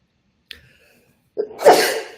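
A single close, loud sneeze with a short sharp intake beforehand, then a burst of noisy breath, in an otherwise quiet room.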